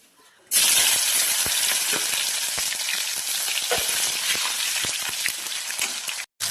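Tomatoes hitting hot oil tempered with cumin and bay leaf burst into a loud, steady sizzle that carries on throughout, with scattered crackles and pops and a short dropout near the end.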